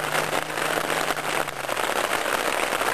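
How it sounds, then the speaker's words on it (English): Hail coming down on a camping tarp during a mountain trip near the Maroon Bells, a steady dense patter of small impacts filling the whole stretch, close and fairly loud, with no voices. "and we have some hail coming down again."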